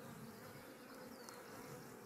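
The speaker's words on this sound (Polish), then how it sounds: "Pszczoły są dosyć spokojne" A dense, steady buzz of many honeybees swarming close by at a hive during honey harvest, continuous and unbroken, with no voices.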